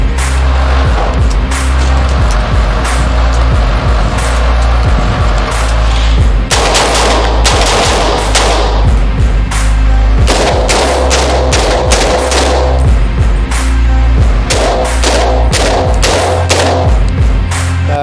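Rapid bursts of gunfire from a Perun X-16 rifle made by Legacy Armament, loud and close, with repeated volleys and sharp single cracks spread across the whole stretch, no talking.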